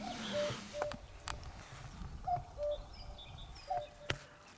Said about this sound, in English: I don't know what sort of bird that is, but that's been making that noise all night